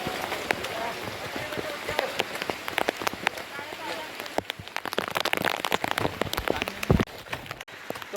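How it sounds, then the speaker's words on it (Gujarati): Heavy monsoon rain falls on Girnar hill in Junagadh, a dense close patter of drops striking surfaces with sharp individual splats, and a voice speaks faintly beneath the downpour. "તો ભાઈ ગિરનાર ઉપર અત્યારે ફૂલ વરસાદ છે"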